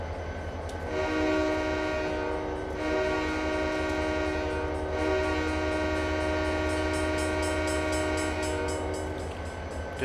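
Diesel locomotive horn from an EMD SD40T-2 on Donner Pass in a train simulator game, a loud sustained multi-tone blast over steady engine rumble, holding for several seconds with a brief break and fading near the end.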